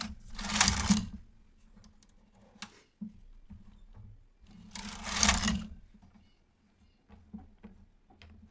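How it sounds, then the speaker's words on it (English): A domestic knitting machine's carriage sweeps across the needle bed twice while knitting a faux fur slipper, each pass a rough mechanical rasp, with soft clicks and handling sounds between the passes. "I'm more concerned with the machine knitting correctly than with speed."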